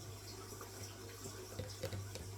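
Water in a tub bath for a baby reptile sloshes and splashes quietly over a low steady hum, with a few small splashes near the end.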